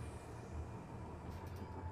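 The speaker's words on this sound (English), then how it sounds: "Train over there." A train rumbles past in Apex Legends, a steady, low, distant rolling with faint rail clatter, heard alone.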